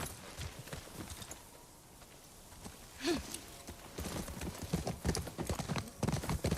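Horse hooves clip-clop in The Last of Us Part 2, a run of fairly close, uneven hoof strikes that grow busier toward the end, with a brief higher call partway through.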